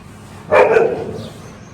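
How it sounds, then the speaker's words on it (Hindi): A single sharp bark from a beagle, loud and close, followed by a short echoing tail, with quiet background before and after. "ये बीगल को जब से पीछे भेजा है भौंक ही रहा है"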